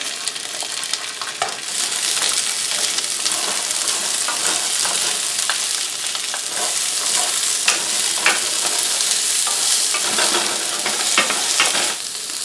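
Bell peppers hit hot oil flavoured with garlic and sizzle loudly and steadily, a dense crackling hiss with occasional pops and stirring scrapes, close up and without talk.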